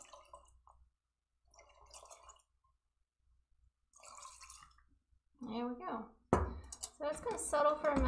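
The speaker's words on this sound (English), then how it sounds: "So now, I'm going to pour some my mineral spirits in here." Mineral spirits pour into an oil painting cleaning reservoir in a few short, soft trickling bursts with quiet pauses between them, then a person starts talking close by.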